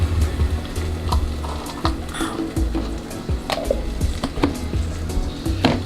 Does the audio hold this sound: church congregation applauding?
no